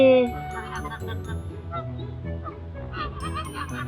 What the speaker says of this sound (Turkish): Bak kazlar ve ördekler var.